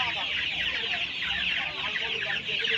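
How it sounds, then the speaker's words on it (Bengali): Guinea fowl and other poultry at a crowded hen market give a dense, continuous wash of shrill clucks and calls, with a faint murmur of people beneath. "বন্ধুরা এখানে দেখুন তিতির মুরগি রয়েছে"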